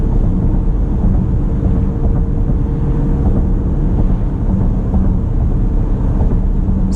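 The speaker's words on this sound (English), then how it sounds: "So you can hear how some of those expansion joints are coming through the cabin" Low road rumble and muffled thumps from expansion joints carry into the cabin of a 2019 Dodge Durango R/T AWD on a firm suspension, a steady dense drone with faint repeated knocks and no talk.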